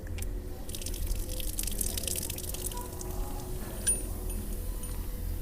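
Water is poured and trickles steadily over a gas geyser assembly being cleaned, a continuous splashing and dripping close by with no talk over it.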